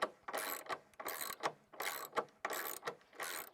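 A socket and ratchet clicks in repeated quick strokes while tightening bolts on a fence bracket, five or six even bursts of ratcheting, close and fairly quiet, with no talking.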